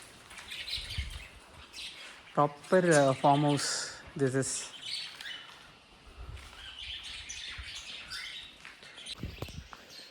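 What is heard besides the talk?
small sparrows chirping at a farm campsite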